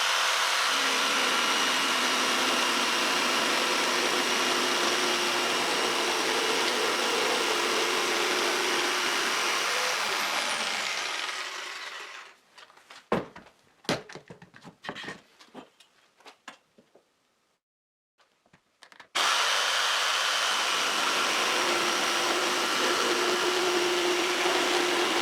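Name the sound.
jigsaw cutting wooden board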